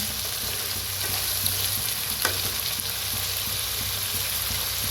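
Sambar vegetables such as pumpkin, tomato, carrot and beans being stirred and mixed in a hot pan, giving a steady close sizzle under scraping and stirring sounds with a low background hum, and no talking.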